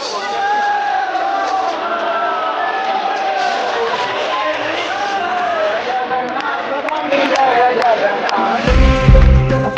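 A huge, packed crowd at the Jagannath Puri Rath Yatra festival on a hot day, a dense continuous roar of many voices with shouts and chatter that swells louder toward the end.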